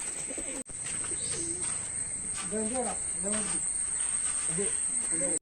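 A pigeon coos in soft, repeated throaty phrases nearby, set against a constant high insect drone in the background.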